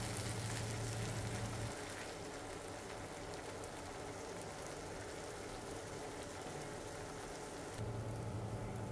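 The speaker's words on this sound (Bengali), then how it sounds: "এবার এই পটল থেকে পানি পুরোপুরি শুকিয়ে তেল উঠে আসা পর্যন্ত ভাজতে থাকব।" Blended pointed gourd fries in oil with onions in a pan, giving a continuous soft sizzle and crackle. A low hum sits beneath it at the start and end. No one is speaking.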